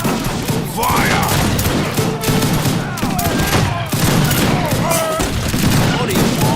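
Musket volleys crackle in Age of Empires 3 Wars of Liberty gameplay, a loud, continuous rattle of overlapping shots with game battle sounds and voices mixed in throughout.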